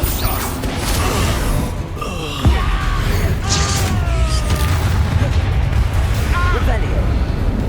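Spell combat in the game Hogwarts Legacy with an Expulsor blast: a steady roar of magical effects, a deep booming impact near the middle, creaking and whooshing tones, and spoken incantations mixed in throughout.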